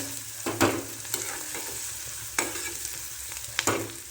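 Chopped onions sizzle steadily in a hot pan for a dal curry, with a few scraping stirs of a spatula cutting through the constant frying hiss, close and fairly loud, no voices.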